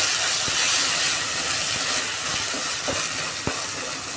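Tomatoes dropped into hot oil with fried ginger garlic paste while cooking a cauliflower and dry salted fish curry, giving a loud continuous hiss and sizzle close by, broken by a few sharp clicks of a stirring utensil.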